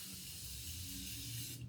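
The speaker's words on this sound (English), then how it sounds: "I'm just gonna do a quick set with the Morphe setting spray" Morphe setting spray misted onto a face, a steady soft hiss of aerosol lasting under two seconds, close and alone with no talking.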